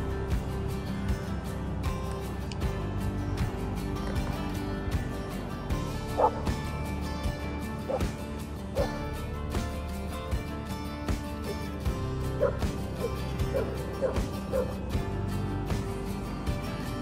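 A dog resting on grass in the shade lets out soft, scattered yips and whimpers, faint and intermittent over a steady outdoor background.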